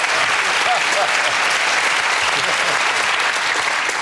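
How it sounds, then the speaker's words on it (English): A studio audience at the panel game Just A Minute breaks into loud, sustained applause that stays even throughout, with voices faintly mixed in. "you deserve a round of applause for that"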